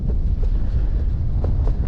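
Strong gusty wind buffets the microphone out on river ice during spring ice fishing on the Pechora, a loud continuous low rumble with surging gusts and no voices.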